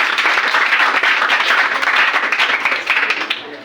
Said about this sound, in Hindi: अनु के लिए जोरदार ताली।